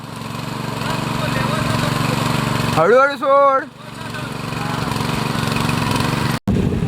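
A tractor engine runs loudly and steadily during rice paddy planting in the Konkan, its low chugging drone continuous except for a brief moment where a voice speaks over it.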